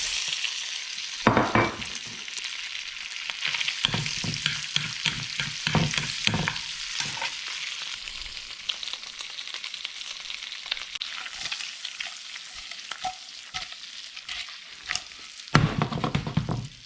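Cuttlefish sizzling and frying in butter with garlic and smoked paprika, a steady crackling bed broken by louder bursts of stirring and pan scrapes near the start and at the end.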